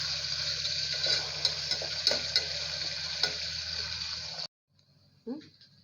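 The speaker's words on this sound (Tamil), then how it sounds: "வெங்காயம் நல்லா வதங்கட்டும்." Large sliced onions frying in a pan, giving a bright, steady sizzle with scattered spoon scrapes and pops for several seconds. It cuts off abruptly and is followed by a brief quiet clink.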